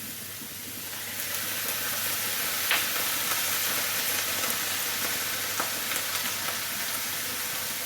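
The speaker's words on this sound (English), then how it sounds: "You put the water on, what will happen is the fat and the water won't like each other, so it'll steam." Liver, onions and mushrooms frying in a hot pan, a steady broadband sizzle with crackles and spits rising slightly as water hits the fat and steams, no talking.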